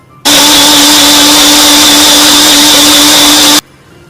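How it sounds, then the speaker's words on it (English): A blender whirring almonds and dates into a paste, a loud steady motor drone with a constant pitch that starts abruptly and runs for over three seconds before cutting off, with no talking. "We have to blend it for approximately 1 to 2 minutes to make it into a smooth paste."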